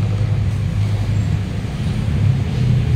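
A Toyota Vios with a dual VVT-i engine, running after being fueled with diesel and shaking hard, gives off a steady low rumbling drone that holds even and close for a few seconds with no talk.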